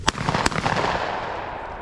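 A shotgun fired at a flying bird during a bird-dog hunt outdoors: two sharp, fairly distant reports in quick succession, each followed by a rolling echo that slowly fades.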